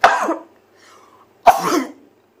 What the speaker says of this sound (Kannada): ನನಗೆ ಸ್ವಲ್ಪ ಶೀತ ಕೆಮ್ಮು ಆಗ್ತಾಯಿದೆ